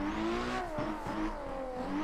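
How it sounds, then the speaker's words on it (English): Car engine in Assetto Corsa bouncing off the rev limiter at redline, a steady high engine tone broken by two sharp popping cuts, close and loud throughout. "Just a popping red line on this car."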